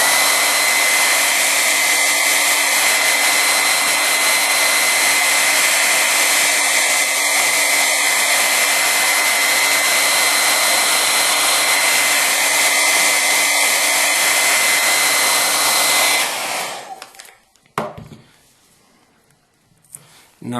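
A hair dryer blows steadily on a leather knife sheath to warm it before Sno Seal is applied. It gives a loud, constant close whoosh for about sixteen seconds, then shuts off, followed by a few handling knocks.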